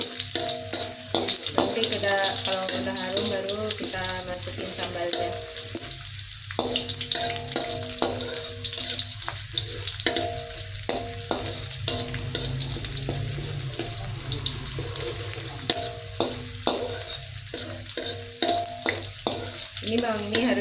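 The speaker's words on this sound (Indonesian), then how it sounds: "Ini bawangnya ini kita goreng sampai harum." Shallots fry for red sambal with a steady loud sizzle while a utensil scrapes and stirs the pan, giving irregular clinks and knocks, and a voice talks over it now and then.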